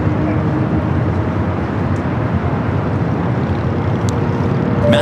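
Qantas airliner in Dreaming livery, bound for Brisbane as flight 16, rumbles steadily at LAX before takeoff, a broad continuous engine roar with wind buffeting the microphone throughout.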